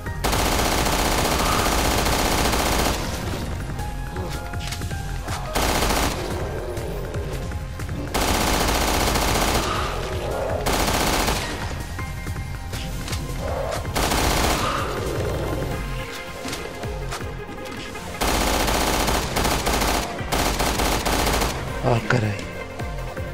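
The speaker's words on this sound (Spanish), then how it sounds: "Vamos a usar la ametralladora para que acabemos rápido" Bursts of machine-gun fire from Resident Evil Revelations 2's Raid Mode, loud and close, coming in several long volleys separated by brief pauses, with game sounds filling the gaps.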